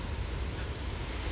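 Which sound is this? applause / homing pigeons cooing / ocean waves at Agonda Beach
ocean waves at Agonda Beach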